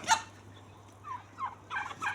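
A few short bird calls from chickens including a rooster and a young cockerel, brief bursts separated by quiet gaps, over a low steady hum.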